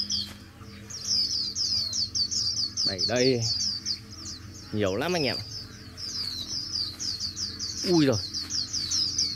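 Flock of migrating white-eye birds twittering in rapid high chirps near a mist net set for trapping, continuous and fairly close, while someone talks over them.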